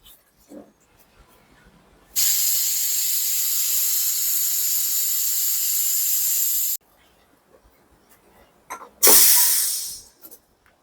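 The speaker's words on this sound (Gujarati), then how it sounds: "ચાલો, હવે આપણે આ સરગવાને કુકરમાં 1 વિસલ કરી લઈએ." A pressure cooker boiling drumsticks lets out a loud, steady steam whistle that holds for about four and a half seconds, followed later by a shorter, sharp hissing burst of steam.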